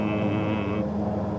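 Car rolling over a graded dirt road corrugated by tank traps, a steady droning hum with layered low tones and a higher whine that drops away partway through, continuous and close.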